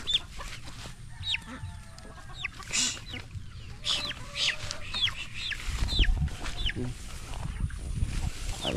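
Chickens being fed cluck and call repeatedly at close range, with short rising chirps over scuffling and some background noise.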